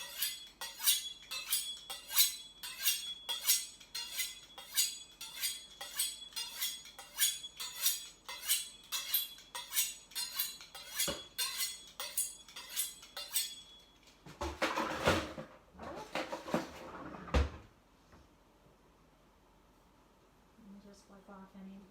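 A kitchen knife is drawn in quick, even strokes across a sharpener, about twenty regular scraping passes close by, followed by a few clattering handling noises and then quiet.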